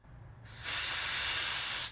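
Aerosol carburetor cleaner sprays in one steady, loud hiss into a Briggs and Stratton plastic lawn mower carburetor, starting after a faint lead-in and holding for over a second before cutting off.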